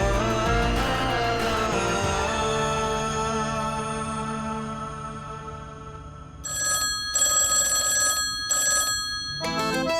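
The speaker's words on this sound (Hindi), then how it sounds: "टेलीफोन बज रहा है" A telephone bell rings loudly and repeatedly, its bright ringing tones sounding in regular bursts close by, with musical tones fading underneath.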